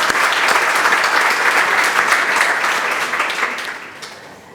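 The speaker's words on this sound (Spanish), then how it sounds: "Yo les pido un aplauso para ellas." A crowd applauds loudly at a tribute event honouring a writer, steady dense clapping that fades gradually toward the end.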